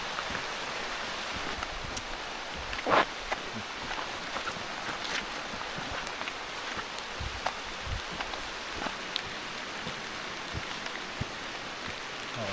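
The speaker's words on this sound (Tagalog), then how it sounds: "Lumakas na ng lumakas yung ulan." Heavy rain falls in a forest in the Sierra Madre as a continuous, fairly quiet patter, with scattered sharper drop impacts standing out against the steady hiss.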